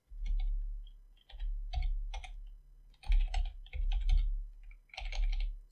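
Typing on a computer keyboard while entering code for a CSS-only responsive navigation: close, crisp key clicks in short irregular bursts separated by brief pauses.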